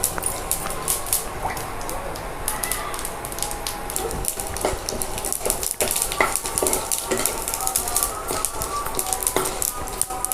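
Dry red chillies and curry leaves crackle in hot oil, a dense continuous sizzle peppered with sharp pops and spatters, close and fairly loud for the whole stretch, with no voices.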